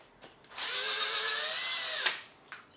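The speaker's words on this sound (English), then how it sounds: "Okay, that's all the screws out of the clutch cover" A power drill whirs steadily for about a second and a half, backing screws out of the clutch cover on a Yamaha XV1000 Midnight Special motorcycle, with brief clicks before and after the run.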